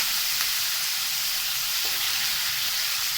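Tomato and onion masala frying in a pan for dahi bhindi, a continuous hissing sizzle with a few faint stirring taps, steady and close, with no talking.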